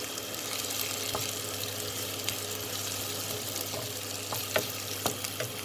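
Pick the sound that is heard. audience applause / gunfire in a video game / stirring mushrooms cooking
stirring mushrooms cooking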